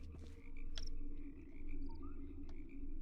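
Frogs croak steadily outdoors at night in the Sherlock Holmes: Crimes & Punishments video game, a low continuous chorus of throaty croaks with a few higher calls over a quiet ambient background.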